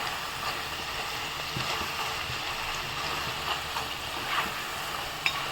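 Kucho nimki, small cut strips of fried dough snack, frying in hot oil, giving a steady soft sizzle and faint bubbling throughout with a small clink near the end.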